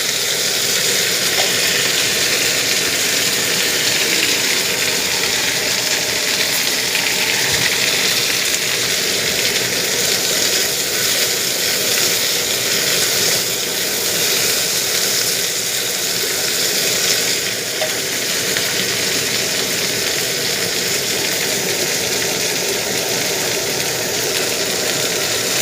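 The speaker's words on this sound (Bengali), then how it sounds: "তেলেতে খুব সুন্দরভাবে নেড়ে চেড়ে নেব।" Okra being stirred and fried in oil gives a steady, dense sizzle that runs loud and unbroken, with faint scraping of stirring underneath and no talking.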